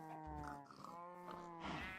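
A sheep in the Minecraft video game gives a few wavering bleats one after another, clear and close against a quiet background.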